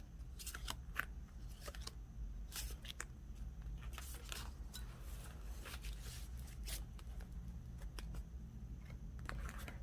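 Tarot cards drawn and flipped over, giving scattered soft shuffling and snapping card sounds at close range in a quiet room.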